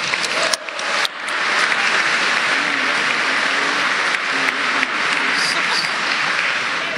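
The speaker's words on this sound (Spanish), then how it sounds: "Yo quiero por eso pedir un voto de aplauso fuerte, compatriotas." A large civil-society crowd gives the president a long, loud round of applause, a dense, even roar of clapping that holds steady throughout, with a few sharper knocks early on.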